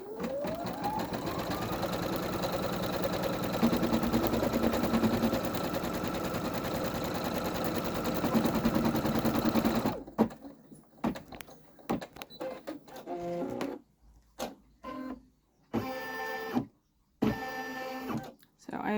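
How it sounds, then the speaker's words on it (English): A sewing machine stitches a border around an embroidered patch, running as a steady rapid mechanical whir for about ten seconds, then giving way to broken, intermittent bursts of clatter and pauses. "So I'll do a border stitch"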